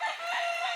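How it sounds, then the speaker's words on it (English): A homestead rooster crows nearby, a loud, strained, sustained call filling the short moment with no talk. "And there's a rooster that needs to go."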